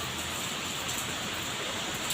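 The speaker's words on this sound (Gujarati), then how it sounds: "વરસાદ આવે છે" Rain falling: a steady, even hiss of moderate loudness, with no other sounds distinct.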